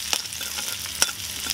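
Green chillies frying in a pan for an Indian street-style masala egg bun, a faint low sizzle with a few soft scraping stirs of the spoon.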